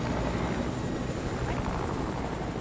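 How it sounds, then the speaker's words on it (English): A helicopter in a shooter video game gives a continuous loud rotor roar that fills the whole stretch, with voices talking faintly underneath. "Helicopter! Helicopter!"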